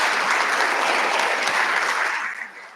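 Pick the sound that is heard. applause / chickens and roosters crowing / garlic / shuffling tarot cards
applause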